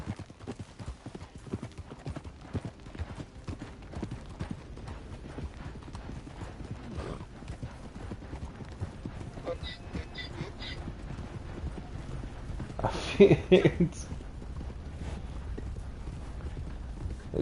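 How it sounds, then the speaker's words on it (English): Continuous clip-clop of a ridden donkey's hooves in Red Dead Redemption 2, steady and close, with a brief squeaky creak near the end and a single spoken word. "donkey sounds like it's on like a squeaky mattress"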